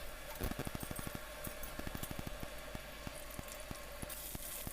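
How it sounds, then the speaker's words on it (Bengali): Sliced onions frying in oil in a pan: a steady, fairly quiet sizzle with rapid crackling pops, continuous throughout with no talk. "তাতে যে কিছু পরিমাণ পেঁয়াজ আমি কেটে ভেজে নিচ্ছি"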